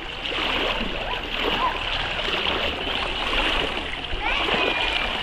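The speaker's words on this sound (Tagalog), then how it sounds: "Ang lakas ng agos, no?" Strong river current rushing over large slippery rocks, a loud, steady roar and splashing of water close by throughout, with speech mixed in.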